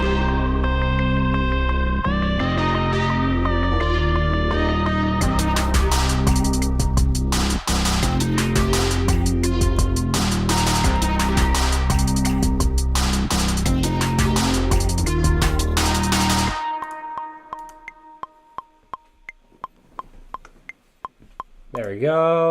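A drum beat pattern programmed on a Maschine MK3 using a tight kit plays loud and dense with steady punchy hits over layered music, then drops out abruptly, leaving sparse faint clicks and quiet tones.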